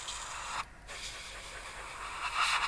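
Paint sprays onto a Tamiya de Havilland Mosquito scale model, a steady close airbrush hiss broken by one short pause and swelling slightly louder at the end.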